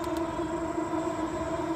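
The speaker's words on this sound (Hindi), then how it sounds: "वो जा रही मेट्रो" A metro train rumbles past at a distance, a steady mechanical drone with a faint tonal whine holding throughout.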